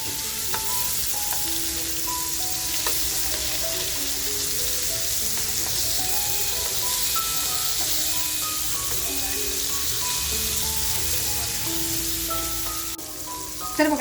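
Surmai fish cutlets fry in a pan with a constant, dense sizzle that runs unbroken, while gentle melodic background music plays over it.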